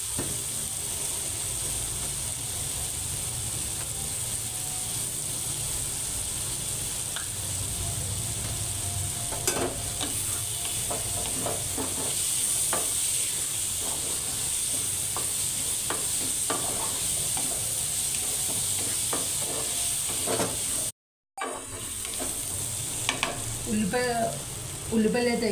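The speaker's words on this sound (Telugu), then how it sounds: "ఉల్లిపాయలు అయితే వేగిపోయినాయి" Onions frying in a pan for a curry give off a continuous dense sizzle, with scraping stirs and clatters throughout and a brief dropout near the end. A faint voice comes through in places.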